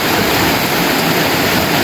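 Floodwater rushing loudly during a typhoon, a dense, steady broadband roar like a waterfall that fills the whole stretch without pause, close and constant.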